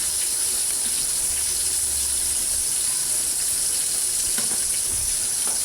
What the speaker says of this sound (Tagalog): Ayan, kumukulong na.